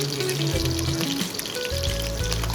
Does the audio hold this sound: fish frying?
yes